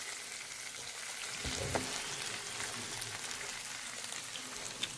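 Beef shanks sear in a hot pan, giving a continuous, even sizzle at moderate volume, with a brief scrape and clatter as they are turned; no talking is heard.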